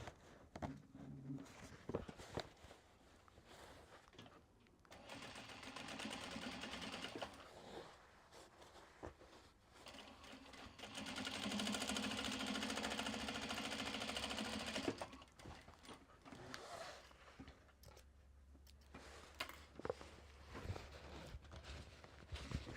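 A sewing machine stitching fabric wedges for a Japanese fabric drawstring bag, its motor whirring in a few bursts of several seconds each, separated by quieter handling sounds.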